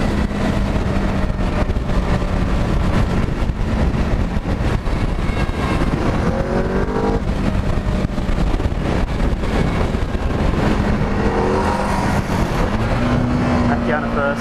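An EBR 1190RX motorcycle cruising in third gear on a freeway, its steady engine drone mixed with heavy wind buffeting throughout, with a rider talking over it.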